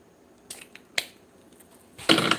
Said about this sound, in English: Just throwing up those scissors.